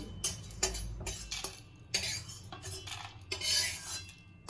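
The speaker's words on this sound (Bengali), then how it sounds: "প্রথমে আমি এগুলো একটু কড়াই নেড়ে নেব এগুলো হলো দারচিনি এলাচ আর লবঙ্গ" Cinnamon, cardamom and cloves are dry roasted in a wok, stirred in a series of quiet scraping strokes with light metallic knocks of the utensil against the pan.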